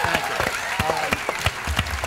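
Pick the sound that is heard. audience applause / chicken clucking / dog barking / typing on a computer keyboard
audience applause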